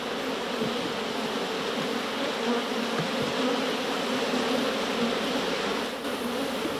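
Honeybees buzz steadily in a dense, continuous drone over a vast field of flowering canola tended by a beekeeper, many insects close by with no voices.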